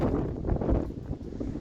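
Low, rumbling wind buffets the microphone in uneven gusts, a dull roar filling the short moment with no other sounds.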